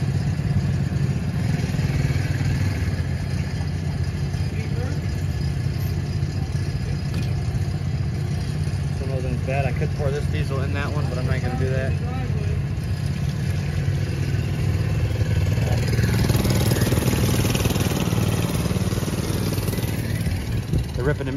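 Small mini bike engines run continuously nearby with a loud, rough drone and clattering revs, while people talk over the noise.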